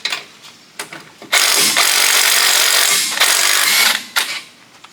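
An 18 mm brake caliper bracket bolt on a Jeep WJ is worked loose. A few short clicks lead into a loud, close, sustained whirring burst of about three seconds, then more brief clatter.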